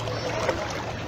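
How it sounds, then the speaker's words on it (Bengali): A boat moves through floodwater covering a road at Fatullah, Lalpur, inside the DND embankment, giving a steady, washing water rumble over about a second, with no talk. "এখন রাস্তা দিয়ে নৌকা চলছে"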